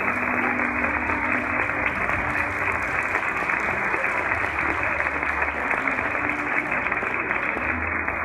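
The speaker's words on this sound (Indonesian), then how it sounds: "Tepuk tangan dong." An audience at a Sunday church service claps steadily and continuously, a dense wash of applause filling the room for about eight seconds without letting up.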